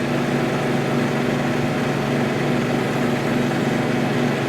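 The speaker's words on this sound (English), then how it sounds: "Now see how the rubber roller is turning" A Comco printing press runs with its rubber roller turning, a steady dense mechanical whir with a constant low hum, loud and unbroken, no scraping and no voices.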